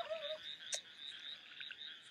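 Frogs croak in a steady mid-pitched chorus, soft and somewhat distant, with one brief sharper call standing out early on.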